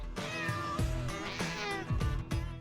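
A house cat meows repeatedly, several short separate cries close by with brief pauses between them, no one talking.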